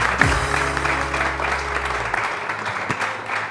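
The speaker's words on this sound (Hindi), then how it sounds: "बहुत सारी तालियां।" Applause from a studio audience on a Hindi-language TV morning show, a dense steady wash of clapping that starts just after a brief tone and holds at an even level throughout.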